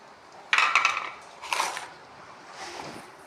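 Flattened rice (aval) is mixed with ground coconut, cardamom and sugar in a bowl for a kids' snack, with close, crisp rustling and clinking bursts that fade into softer scraping. Nobody talks.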